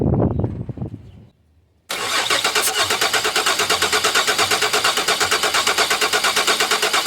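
A Mazda MPV minivan's 3.0 engine cranks over with ignition coils disconnected and fuel disabled for a compression test: after a brief starting attempt and a pause, a loud, steady, rhythmic chugging of the starter turning the engine runs on without firing.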